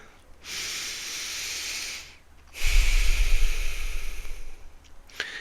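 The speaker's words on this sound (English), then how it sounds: "Take a deep breath." Two slow, audible breaths, each a long airy rush lasting a couple of seconds, close and quiet, separated by a short pause.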